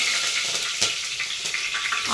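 Mustard seeds and curry leaves dropped into hot oil for a tempering, giving a steady close hiss and crackle that lasts the whole moment, with no talk.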